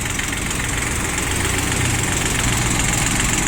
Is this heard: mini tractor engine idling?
yes